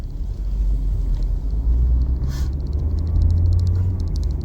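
A Mahindra Thar Roxx automatic SUV drives on mountain roads, its engine giving a steady, loud low rumble inside the cabin with faint clicks and rattles above it.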